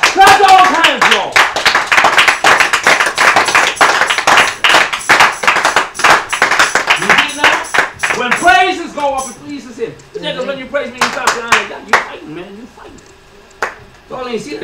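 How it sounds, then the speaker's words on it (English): A church congregation clapping hands in praise, rapid rhythmic claps under loud talk and shouting, thinning toward the end as the speech continues. "Clap all hands, y'all."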